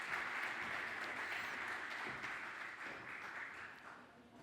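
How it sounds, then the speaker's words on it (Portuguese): An audience at a European-funds project pitch event applauds with sustained, even clapping that sounds somewhat distant and quiet, then fades slightly toward the end. "Uma salva de palmas, muito obrigada."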